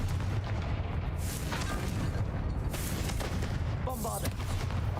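A Confringo fire spell blasting in Hogwarts Legacy, with dense, booming, crackling bursts layered over continuous combat noise and a voice speaking during the fight.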